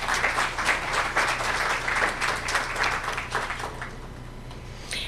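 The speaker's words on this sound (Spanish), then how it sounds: "Un aplauso para doña Leticia Salomón." An audience applauds a speaker introduced as a specialist in democratic governance, defense and security: a dense, steady wash of many hands clapping for about five seconds, easing off slightly toward the end.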